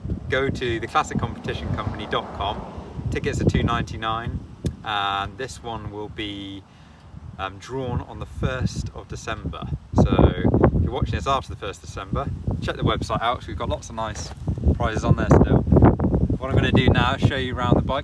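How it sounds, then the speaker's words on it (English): Someone talks almost continuously outdoors on a hilltop beside a 1972 Kawasaki Z1 900cc motorcycle while gusts of wind buffet the microphone, adding bursts of low rumbling noise beneath his voice. "Sorry about the wind, we're on top of a hill, so it is windy quite often."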